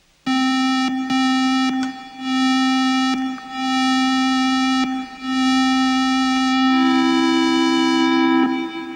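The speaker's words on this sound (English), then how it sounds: "let's hear what happens to the sound if we slow down the attack" A synthesizer holds a steady buzzy tone with a slowed-down attack, notes swelling in gently one after another, loud and close, the pitch stepping up near the end.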